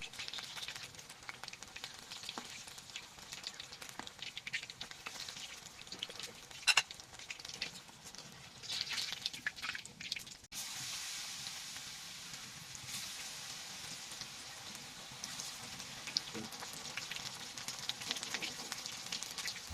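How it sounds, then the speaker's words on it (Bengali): Eggplant fritters (beguni) deep-fry in hot oil, giving a soft, continuous crackling hiss like light rain, fairly faint and even throughout with occasional small clicks; no voices. "এই গরম তেলের মধ্যে হালাইয়া এখন এই বেগুনিগুলারে কায়দা মতো ভাজা নিমু"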